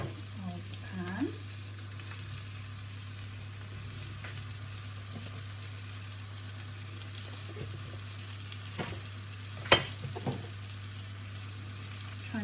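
Long slices of leek sizzle steadily in a pan for a tarte tatin, a soft continuous frying hiss over a low hum, with occasional light clinks and taps close by.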